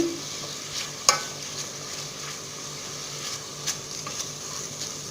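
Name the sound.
meat frying in melted butter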